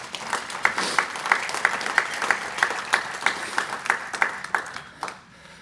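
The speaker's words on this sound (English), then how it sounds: "That's a round of applause for that man." An audience claps for a man honoured with induction into the Texas Swimming and Diving Hall of Fame, a moderate round of rhythmic clapping that carries steadily and then fades out at the end.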